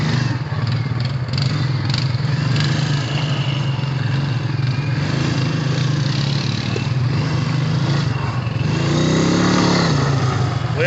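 A Polaris Sportsman 450 ATV riding along dirt trails, its engine droning steadily and loudly from up close, with rattling and wind noise throughout and a slight rise in revs near the end.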